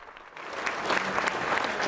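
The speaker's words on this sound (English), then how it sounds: "The biggest cheer of the night always comes from this line." A crowd at a political rally bursts into sustained applause and cheering, steady clapping and shouts building slightly and holding loud throughout.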